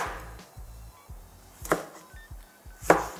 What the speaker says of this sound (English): I'm just going to give the tomatoes a cut here, cut them into quarters.